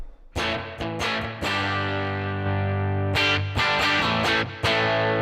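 An electric guitar runs through a spring reverb in mono, with several sharp strummed chord attacks and sustained ringing between them, loud and up close with no talking.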